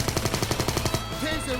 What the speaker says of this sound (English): Surprisingly, the Uzi is very effective.